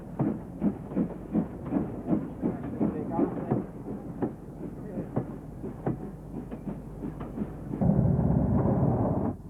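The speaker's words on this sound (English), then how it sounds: "Fairburn 264 tank engine number 42079 on this soccer special." Fairburn 2-6-4 tank steam locomotive number 42079 hauling a football special at Stafford, with regular rhythmic chuffs and the clatter of rolling wagons, moderately close, ending in a louder rushing roar.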